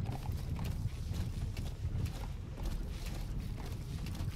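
Horse hooves clip-clopping in the video game Metal Gear Solid V: The Phantom Pain, a steady trotting patter under a broad wash of falling rain, fairly quiet and continuous with no talk.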